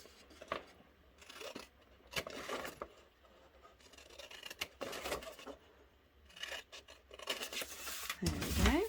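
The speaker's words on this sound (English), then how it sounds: "And I'm going to cut that away." Scissors snip away a small section of scored card, making scattered crisp cuts and scraping rustles with pauses, fairly faint and close.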